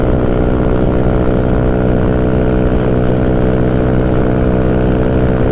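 A GY6 scooter engine held at high throttle on the road, a steady loud drone with dense harmonics and constant wind rush, running continuously with no pauses.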